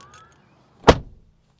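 A single solid thunk of the door closing on a 2025 Kia Sorento Hybrid SX Prestige as someone climbs into the cabin, one close, short, muffled impact in otherwise quiet surroundings.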